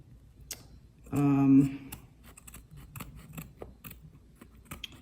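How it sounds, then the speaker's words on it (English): Scissors trim the excess frizzy backing material from a lino block with a close, continuous snipping cut of about half a second, followed by scattered light ticks and rustles. "you can trim off all the excess material, all this like frizzy"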